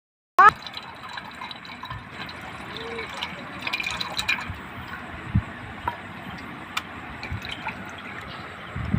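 Sour water for fuchka pours steadily into a container at close range, a continuous watery trickle that starts abruptly and runs throughout with small splashy peaks.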